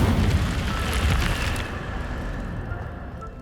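Incendio fire spell cast in Hogwarts Legacy: a loud, dense roaring burst of flame that swells at once, holds for about a second and a half, then thins into a fading rumble.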